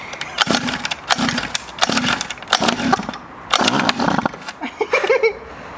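Repeated attempts to start a cheap $50 motorbike engine: a series of rough bursts of cranking, coughing, and sputtering in an irregular rhythm, loud and close, separated by short pauses.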